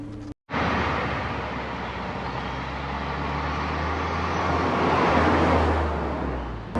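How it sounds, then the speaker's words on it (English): A Lotus Europa S pulls away and drives on, a steady engine drone and road roar rising slightly in loudness as it gathers speed, heard from inside the car. "Right, we're going to pull away."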